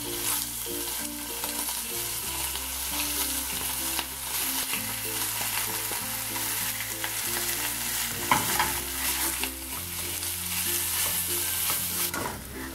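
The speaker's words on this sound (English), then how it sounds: "So cook the bacon until tender." Bacon frying in a little oil in a heated oven-proof pan, a loud continuous crackling sizzle with frequent stirring scrapes, close and unbroken, no voices.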